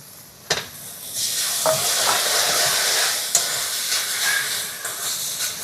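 Grated coconut being stirred into caramelized melted sugar over lowered gas heat, giving a steady hiss and sizzle with a few sharp clinks from the stirring, heard close and alone.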